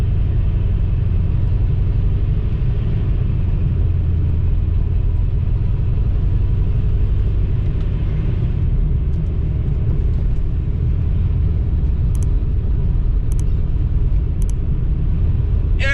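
A Dodge R/T with a 5.7 Hemi launches down a quarter-mile drag strip, giving a sustained, loud, low engine roar and rumble with no breaks.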